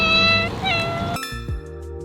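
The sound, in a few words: cat meowing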